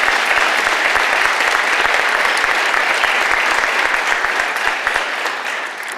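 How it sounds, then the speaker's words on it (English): Loud, dense round of applause from the audience at a college police academy ceremony, continuous crisp clapping that holds steady, then tapers slightly toward the end. "How about a round of applause for that?"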